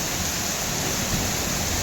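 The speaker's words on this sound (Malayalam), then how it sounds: "അടിപൊളിയായിട്ടുള്ള മഴയാണ്." Heavy rain falls in Kerala, a steady, dense wash of noise with no break and no voices over it.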